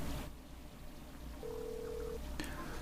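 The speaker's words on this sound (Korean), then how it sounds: "휴대전화에 전화를 거는 중입니다" A smartphone placing a voice-commanded call gives a short steady electronic tone, then a brief click, over a low room hum with a faint voice.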